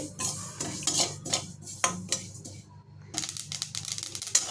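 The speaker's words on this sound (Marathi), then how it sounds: "इथे बघा तीळ पण मस्त तडतडायला लागलेले आहेत" White sesame seeds crackle and pop while roasting in a hot pan, a quick irregular patter of sharp ticks with a brief pause before resuming.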